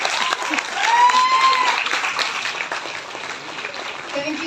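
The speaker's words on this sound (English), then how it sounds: "Big round of applause." Mothers at an inauguration ceremony in Bangalore are applauded by the audience, with a broad, steady wash of clapping that swells slightly and continues, and voices are mixed in.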